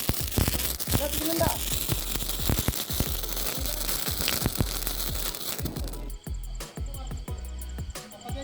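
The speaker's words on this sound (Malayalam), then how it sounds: "കമ്പിത്തിരിയും മത്താപ്പും പൂക്കുറ്റിയും ഒക്കെ ആയിട്ട് നല്ലൊരു അടിപൊളി റോളായിരുന്നു കേട്ടോ." Vishu sparklers, mathappu and flowerpot fireworks crackle and pop at night in rapid irregular bursts, loud and close, with voices chattering underneath before the sound thins to a few quieter crackles.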